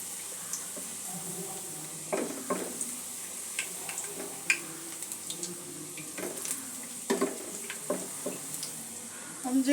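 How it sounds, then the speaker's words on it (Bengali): Chana dal kachori fry gently in oil on low heat, a quiet, soft bubbling with scattered light ticks and occasional clinks of a utensil against the pan. "হালকা আঁচে ভেজে নিতে হবে।"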